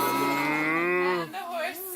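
A person mimics a cow with one long, loud, drawn-out moo that slides downward and trails off into a lower tail.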